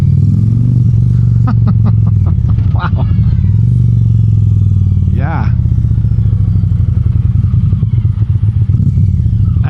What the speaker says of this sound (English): it's a liquid cooled motorcycle